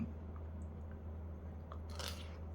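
Crunchy bites and chewing on crispy pork with holy basil rice, close to the mic, with a steady low hum underneath and a brighter crackly burst of crunching near the end.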